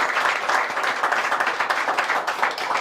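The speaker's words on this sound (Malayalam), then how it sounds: "ഒരു നല്ലൊരു കയ്യടി കൊടുക്കും." An audience claps together in a steady, brisk round of applause in a school auditorium, close and fairly loud, holding throughout.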